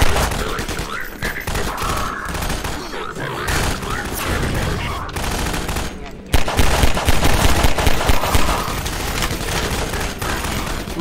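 Dense, loud gunfire from Half-Life 2 Episode One, sustained automatic bursts and scattered shots with brief lulls, mixed with voices of players talking over the combat.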